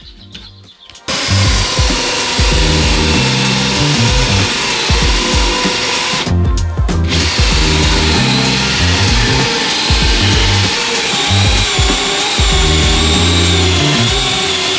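A power drill bores pull holes through wooden campervan panels, a loud, steady grinding whine that starts after a brief quiet moment, dips once in a short pause, then carries on continuously to the end.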